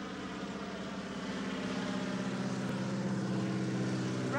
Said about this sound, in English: float plane flies over mountains and a river.